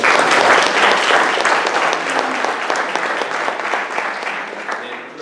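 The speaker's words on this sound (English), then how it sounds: "We can give them a round of applause." A meeting audience at a Beaches Watch gathering claps for Clay County and St. Johns County commissioners, full loud applause that gradually thins over several seconds, with some voices mixed in.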